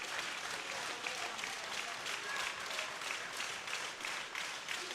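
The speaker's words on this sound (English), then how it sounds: "They cheer like this for everyone." Steady, dense applause and cheering from a large crowd fills the hall at a world open equipped powerlifting championship after a 251.5 kg lift, sustained and loud throughout without a break.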